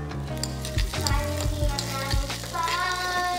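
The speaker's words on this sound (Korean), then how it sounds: "지글지글 소리가 나면 2분 정도 볶아줍니다." Sesame oil sizzles steadily in a pan over low heat, with a few soft stirring knocks, over light background music.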